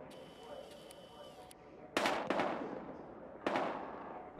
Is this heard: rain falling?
no